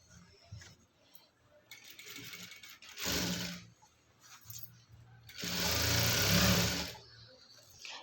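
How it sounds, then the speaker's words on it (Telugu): A sewing machine top-stitches a readymade dress in two distinct bursts of rapid mechanical whirring, separated by quieter pauses with faint handling clicks. "ఈ లాస్ట్ నుంచి ఇలా ఒక టాప్ స్టిచ్ వేసుకుంటూ ఇలా చూడండి, ఇది లేవకుండా టాప్ స్టిచ్ వేసుకుంటూ రావాలి."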